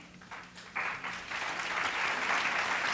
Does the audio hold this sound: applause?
yes